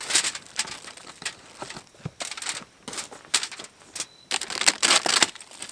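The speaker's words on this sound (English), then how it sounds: "we're gonna throw the bread in the tin foil, put it on the fire and let it toast" Tin foil crinkles and rustles in irregular bursts as bread is wrapped for toasting over a campfire, close and fairly crisp, with short pauses between handling.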